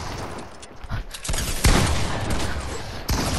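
Gunfire in the video game Fortnite, a quick cluster of sharp shots in a short burst over game background noise.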